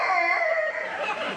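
A voice imitates a foreign puppy's howl: a sustained, fairly loud whining wail that wavers and bends in pitch for over a second, heard alone without other talk.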